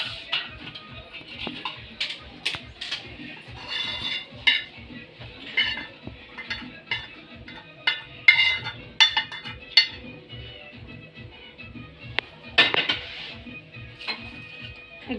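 A fried egg scraped from a pan and lifted onto a plate in a home kitchen, with repeated metal scraping and clinking of utensil against pan and plate, close and moderately loud.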